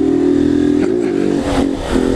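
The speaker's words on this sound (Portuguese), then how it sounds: "Ó, é uma moto ali." A motorcycle engine drones steadily nearby in a favela street at about 3 a.m., its pitch dipping and rising as it passes, with no talk over it.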